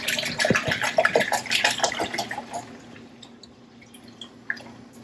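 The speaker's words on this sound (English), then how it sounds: "I'm going to start with 4 cups of vinegar" Four cups of vinegar splash and trickle into a container while a spicy pickling brine for Brussels sprouts is started, a close, steady pour with dripping that thins out and stops about halfway through.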